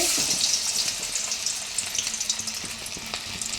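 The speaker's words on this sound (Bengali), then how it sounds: "আজকে মাছ ভাজছি, কাতলা মাছ নেওয়া হয়েছে।" Catla fish coated in a paste of garlic, green chilli, dried chilli powder, ginger, turmeric and salt frying in hot oil, with a steady close sizzle crackling throughout and a few sharper spits and pops.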